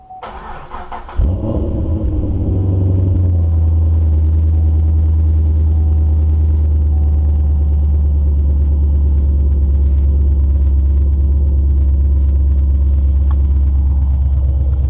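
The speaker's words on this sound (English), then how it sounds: "But this is a cold start for a car." A 2010 Camaro SS with a full Kooks exhaust and cold air intake cold-starts after sitting overnight: a sharp crank and catch, a brief flare of revs, then a loud, deep, steady idle rumble that carries on alone.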